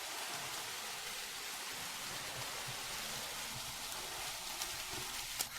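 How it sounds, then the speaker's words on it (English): Steady rain falls outside a palace, a soft, even hiss of drops that continues throughout with a few faint patters near the end, with no talking. "it's still raining outside."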